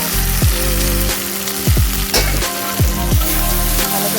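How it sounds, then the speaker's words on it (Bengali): Fried snake gourd loud and close, sizzling in poppy seed paste in a pan, with a steady crackle and several rhythmic thumps and scrapes of stirring, no voices. "এবার এর মধ্যে দিচ্ছি ভেজে রাখা চিচিঙ্গাটা।"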